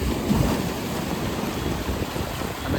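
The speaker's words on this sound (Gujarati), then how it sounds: "દરિયાના મોજા ખૂબ જ ઊંચા ઉછળી રહ્યા છે" High sea waves at Shivrajpur Beach surge and wash around a small boat on a ride, a loud continuous roar of water mixed with wind buffeting the microphone, with no talking.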